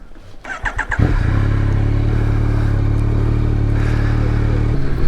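A 2021 Yamaha MT-09 SP motorcycle cranks over with a short clatter, catches, and settles into a loud, steady close idle that lifts slightly in pitch near the end.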